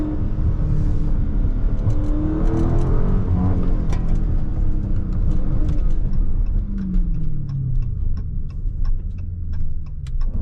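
A 2023 Last Call Dodge Charger Scat Pack Widebody rumbles loudly from inside the car while cruising, its engine droning and swelling with rapid ticking clicks layered on top.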